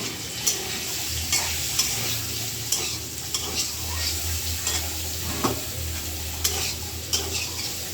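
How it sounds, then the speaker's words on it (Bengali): Black cumin seeds and dried red chili fry in soybean oil in a pan for a cauliflower and potato vegetarian dish, giving a continuous close sizzle broken by regular scraping stirs of a spatula. "আমার কালো জিরাটা, শুকনো মরিচটা ভাজা হয়ে গেছে"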